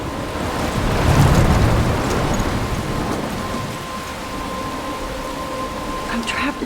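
A thunderstorm in the game Life is Strange gives steady loud rain with a low rumble of thunder that swells early on and then eases, plus a faint tonal hum underneath.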